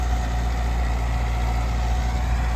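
A tractor engine idles steadily at a village near the Pakistan–India border, giving a continuous low rumble with no change in pace and no speech across the whole stretch.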